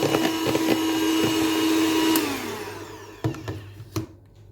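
An electric mixer whirs steadily while whipping cream for a homemade nut cake, its pitch sliding down midway, followed by a few short knocks and a quieter whirring tail.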